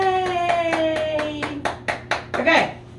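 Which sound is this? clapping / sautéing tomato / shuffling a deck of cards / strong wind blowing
clapping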